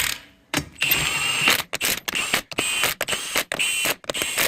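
Wheel lug nuts are snugged up during a service with a power tool, heard as a series of loud, close, rapid ratcheting bursts separated by brief pauses, about eight short runs in a row.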